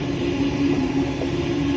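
A train runs along nearby tracks with a steady, loud rumbling drone and a sustained low hum throughout, no speech.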